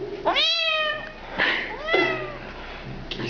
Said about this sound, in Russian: Кися, кися, не молчи, кися,